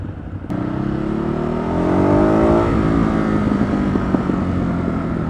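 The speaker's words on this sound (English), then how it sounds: "Ooh, I like the overrun." Ducati Hypermotard 939 motorcycle engine on overrun, a loud close drone that falls in pitch as the revs drop, then settles into a rough, burbling off-throttle note.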